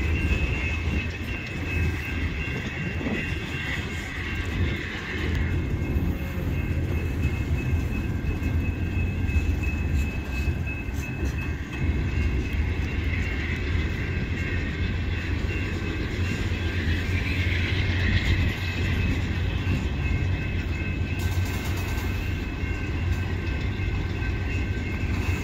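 CSX freight train 31M heading south through Rockwood behind a solo AC44C6M locomotive, hauling a long string of gondolas: a continuous rumble and clatter of rolling cars, steady and close throughout, with faint squealing tones above.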